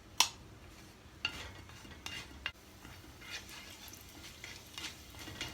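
Cumin seeds fry in a pan over a high flame, giving a soft crackling sizzle broken by a few sharp clinks and stirring scrapes, faint and close with no voices.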